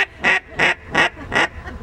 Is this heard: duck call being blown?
yes